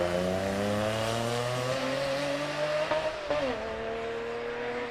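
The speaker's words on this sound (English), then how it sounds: "Thomas Robinson in the 3 litre 911 Carrera, one of the older 911s on the line now" Porsche 911 Carrera 3 litre accelerating hard at a hill climb, a steady engine roar with rising harmonics through the gears, heard from a moderate distance.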